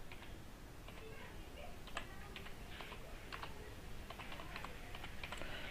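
Typing on a computer keyboard while entering a name into an Excel spreadsheet, quick light key clicks in irregular bursts, fairly close and quiet, with no talk over them.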